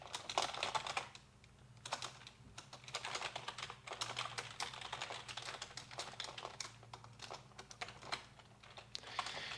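Steady, fairly close clicking of keys on a computer keyboard as someone types JavaScript code, in irregular quick bursts with short pauses and no talking.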